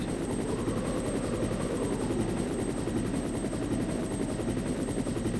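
A helicopter from the PS1 game Resident Evil thrums with a loud, steady rotor chop close by, continuous and rhythmic throughout without speech.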